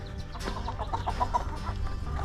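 Chickens cluck nearby in a henhouse in a series of short, soft calls, several birds murmuring over a low background hum.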